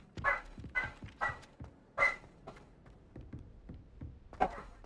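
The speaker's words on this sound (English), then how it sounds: "Never mind, they're barking again." Dogs bark in Hogwarts Legacy with a quick run of four or five sharp, moderately close barks, then softer scattered taps and thuds trailing off.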